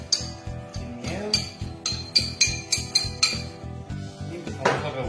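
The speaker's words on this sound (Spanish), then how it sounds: "y empezamos a revolver." A utensil stirs salsa with lime juice and bouillon, making a steady rhythm of about a dozen scraping clinks against the bowl, close and fairly loud, with no talk.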